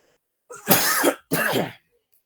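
Two harsh, close coughs from a man in a classroom setting, each a short burst separated by a brief pause, loud against near silence.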